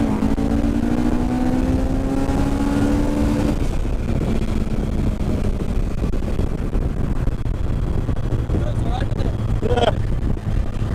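Honda S2000-powered MK Indy car engine revving hard toward 9000 RPM, rising pitch sweeping up loudly for a few seconds then dropping off, with wind buffeting and later a brief sharp rev flare near the end.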